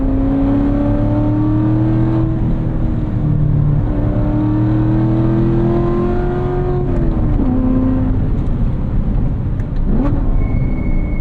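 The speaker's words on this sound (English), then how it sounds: "that right there was an auto rev match" A 2016 Corvette C7 Z51 engine drones steadily from inside the car, then auto rev matching blips the revs with quick rises and falls on downshifts, loud and close with no talking.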